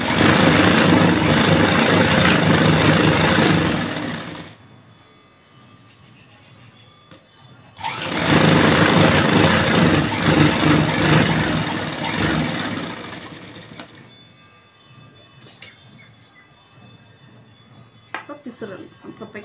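A sewing machine runs loud and close while stitching a blouse seam, whirring in two sustained bursts of several seconds each separated by a quiet pause, then fading into softer handling noises.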